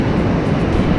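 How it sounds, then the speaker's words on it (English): Waves of about three to four feet breaking on a northeast Florida beach at high tide, a dense, steady surf roar with wind, loud and close, no voices. "It's about 3-4 foot waves."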